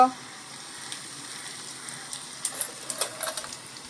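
Asafoetida drops into hot tempering oil already holding garlic and mustard seeds for a Konkan-style colocasia leaf curry; a faint, steady sizzle builds into brief crackling pops near the end.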